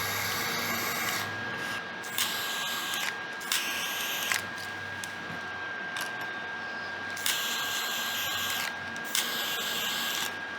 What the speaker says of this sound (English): Now to hit the heat shrink with the blowtorch.